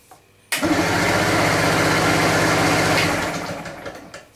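A Suzuki motorcycle engine cranks over loudly and steadily on the starter for about three seconds during a compression test, then winds down with a few sputters, close up and with no voices.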